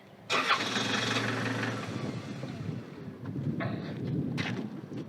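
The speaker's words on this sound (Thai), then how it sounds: "ต้องคายล็อกแล้วนะครับถึงสตาร์ทขับไปได้อย่างนี้" A Toyota Hiace van fitted with a push-start button and smart key fires up, its engine catching with a loud burst and then settling into an idle. The idle is joined by a couple of later rustles.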